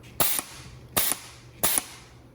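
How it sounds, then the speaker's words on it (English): An air cylinder on an AK and pistol test fixture drives its piston into the firing pin on a breech block, giving three sharp, loud metallic snaps evenly spaced about a second apart against a faint steady hum. "there's an air cylinder here, and that strikes the firing pin on the breech block"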